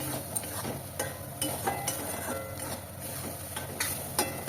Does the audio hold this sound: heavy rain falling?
no